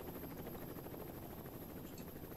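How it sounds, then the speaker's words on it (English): A helicopter in Garry's Mod sends out a steady, loud rotor chop with a continuous whine on top, close and unbroken throughout, with no voices. "I like this helicopter, so we're going to go for this"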